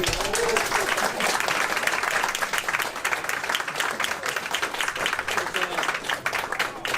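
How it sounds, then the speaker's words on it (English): An audience breaks into a continuous round of loud, dense applause that holds steady throughout, with voices mixed in among the clapping. "Let's give Romeo another round of applause for all"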